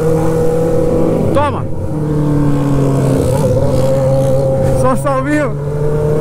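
Motorcycles with straight-pipe exhausts rev loudly nearby, rising and falling in sharp bursts, with a steady engine drone underneath and people talking over the noise.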